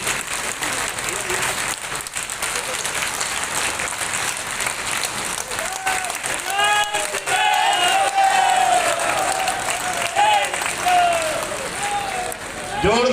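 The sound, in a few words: crowd applause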